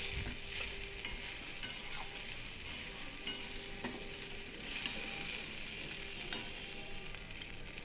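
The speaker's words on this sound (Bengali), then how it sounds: "ঢাকা দিয়ে আমি বেগুনগুলোকে ভালোভাবে কষে ভেজে নেব।" Eggplant pieces fried and stirred in a pan with salt and turmeric, a steady loud sizzle running throughout with occasional scraping strokes of the spatula.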